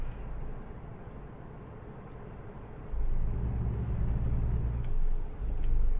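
Kenworth truck driving in the video game American Truck Simulator, a steady low engine and road rumble that grows louder and heavier about halfway through, no talking.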